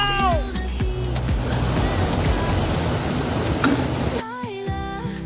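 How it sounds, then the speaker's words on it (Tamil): A strongly flowing river at night, heard during night fishing, gives a steady, dense roar of rushing water that fills the scene, with a few faint high chirps at the start and end. "பயங்கரமான தண்ணி போயின்னு இருக்குது."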